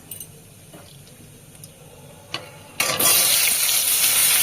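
Tomato, green chili and black cumin seeds hit hot oil in a home kitchen while cooking a pabda fish curry, bursting into a loud, steady crackling sizzle after a few quiet clinks.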